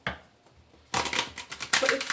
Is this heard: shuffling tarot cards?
yes